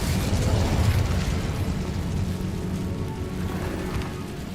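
In the Hogwarts Legacy game, the Incendio fire spell unleashes a loud, sustained roaring burst of flame, a dense rumbling whoosh that stays strong for several seconds and eases only slightly toward the end.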